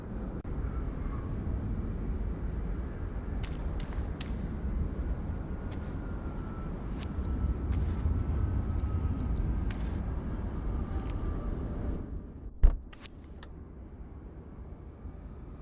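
A Spitfire engine in Microsoft Flight Simulator gives a steady, loud drone that holds for about twelve seconds, then drops away, followed by a brief sharp click.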